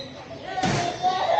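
A door slams shut at the triple-door entrance of a zoo aviary, a single loud thud partway through, with a person talking and ambient bird sounds around it.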